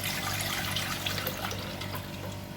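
Homemade carrot, ginger and lime juice trickles and drips steadily through a strainer, a close, continuous wet patter with no talking.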